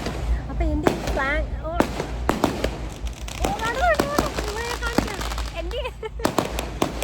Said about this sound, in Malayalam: ഇവിടുന്ന് പടക്കം പൊട്ടി